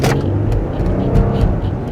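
A new Lexus car accelerates hard, a loud, low engine rumble and road roar heard from inside, steady and full for the short stretch.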